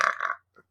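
A single short, loud burp after drinking beer, a rough throaty belch followed by a brief fainter trailing sound, then silence.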